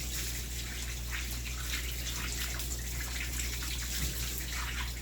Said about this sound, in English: when you feel like it's rinsed out really well, rinse one more time